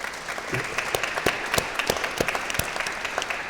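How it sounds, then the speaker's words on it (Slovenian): An audience at a talk or interview event claps, a sparse, steady patter of individual hand claps with distinct sharp slaps over a soft crowd bed. "Še en aplavz."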